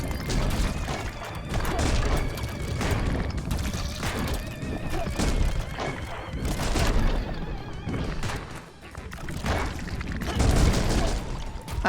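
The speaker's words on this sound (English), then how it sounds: "I actually dodged that explosion" Video-game explosions in the roguelike shooter Voidigo go off in a dense barrage of booms, crashes and rapid weapon fire, loud and close, with no pause between blasts.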